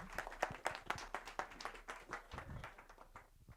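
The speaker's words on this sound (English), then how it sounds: "We have a round of applause." An audience applauds a speaker being introduced at a Bitcoin festival talk in Nottingham: a burst of quick, close, distinct claps that grows denser, then thins and fades out by the end.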